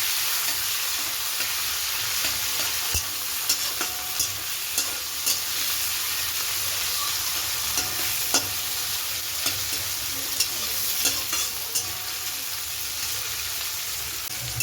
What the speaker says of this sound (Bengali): এই দেখো পেঁয়াজটা ভাজা ভাজা হয়ে এসছে।